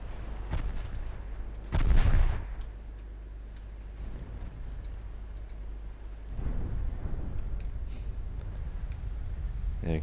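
Naval gunfire in the warship strategy game Ultimate Admiral Dreadnoughts: a heavy shell boom lands near the two-second mark, with a second rumbling salvo later and faint ticking clicks throughout, under game ambience with occasional talk.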